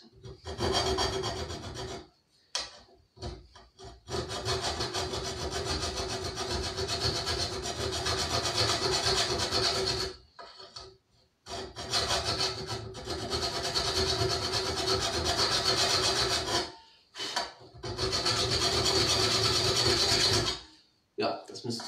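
A rasp files back and forth on wood in long, steady sawing strokes, pausing briefly a few times before resuming.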